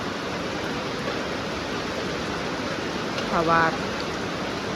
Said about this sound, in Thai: มื้อตลาดว่ามาเจอฝน